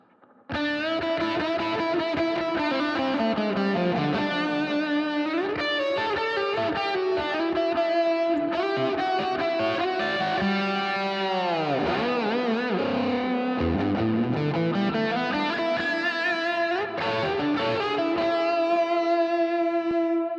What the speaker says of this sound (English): you can hear the reverb is largely in a large space reverb